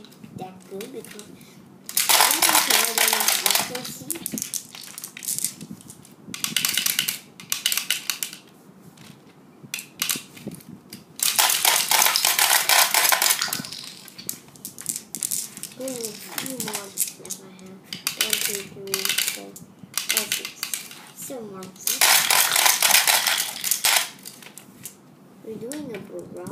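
A Cross Fight B-Daman CB-37 Twin Magazine toy fires marbles in bursts, with loud clattering plastic rattles and clicks in several clusters, separated by a person talking.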